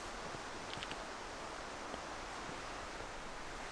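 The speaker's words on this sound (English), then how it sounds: "That is the sound of waterfalls in the distance" Distant waterfalls on a woodland walk in the Brecon Beacons make a faint, steady broadband wash, a soft continuous hiss with no talk over it.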